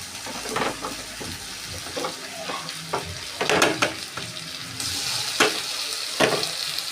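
Chopped tomato hitting hot oil with onion, ginger, garlic and green chilli paste in a pan, loud sizzling with irregular scraping stirs and clatter of a spoon, close up, no talk.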